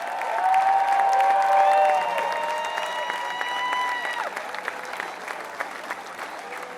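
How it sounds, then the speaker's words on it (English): Large outdoor crowd applauding and cheering for former Baylor men's basketball players at a parade presentation, steady loud clapping swelling then tapering off, with whistles and scattered shouts over it. "Give them a round of applause."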